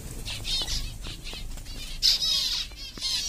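Small finches flutter around their nest, quick bursts of wing flapping close by, with faint chirps mixed into a light background hiss.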